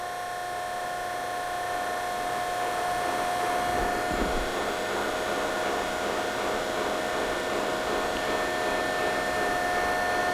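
The electric motor of a used Betenbender 10-gauge, 5-foot hydraulic low-profile power squaring shear runs steadily, a continuous whirring hum with a high tonal whine, and a brief low thump partway through.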